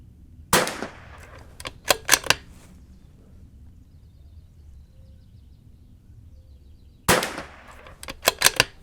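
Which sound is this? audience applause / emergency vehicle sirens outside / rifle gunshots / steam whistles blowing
rifle gunshots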